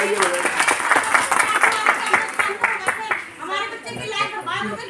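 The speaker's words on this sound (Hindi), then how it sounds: "ताली बजाइए" Parents at a school workshop clap in a rapid burst that thins and fades after a few seconds, with children's voices and chatter mixing in near the end.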